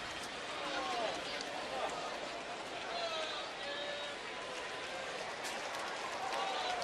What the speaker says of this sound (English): Crowd now starting to get noisy in support of Leake